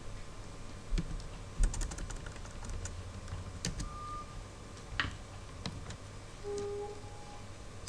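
Computer keyboard typing heard close, as light irregular key clicks in a steady stream over a constant background hum, with no talking.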